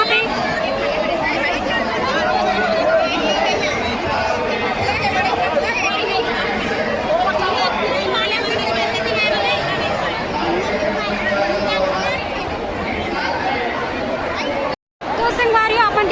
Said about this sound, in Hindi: चारों तरफ बहुत ही ज़्यादा भीड़ बने हुए हैं